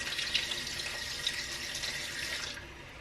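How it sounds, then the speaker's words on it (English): Water pours steadily into a cooking pot from a tap, a continuous hissing splash that runs for a few seconds and then cuts off near the end. "I just want to cover enough liquid in here to kind of cover what we're cooking."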